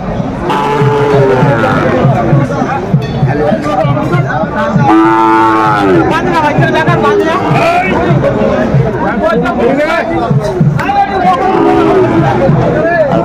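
Sahiwal bulls and calves lowing at a crowded cattle market in Kurigram, several long, loud moos rising over continuous crowd chatter, with someone speaking close by throughout.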